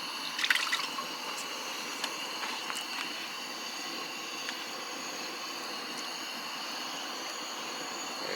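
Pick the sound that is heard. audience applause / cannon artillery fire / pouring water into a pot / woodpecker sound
pouring water into a pot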